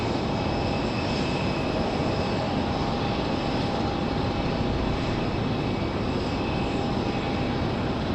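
An airliner takes off at Raleigh-Durham International Airport, its engines a loud, steady, continuous roar that fills the whole stretch without letup.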